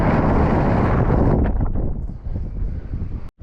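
Strong wind on a lake at Flaming Gorge in December buffets the microphone as a loud, dense rushing roar. It eases after a moment into gustier bursts, cut off briefly near the end.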